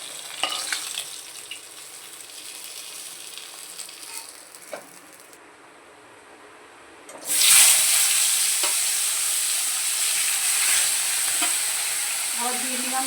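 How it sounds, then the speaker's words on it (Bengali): Fish frying in hot oil in a home kitchen, a close steady hiss that flares loudly midway as fish meets the oil, then settles into continuous bright sizzling with occasional clinks, no voices. "তেলটা গরম হয়ে গেছে, মাছটা ভাজা বসিয়ে দিলাম"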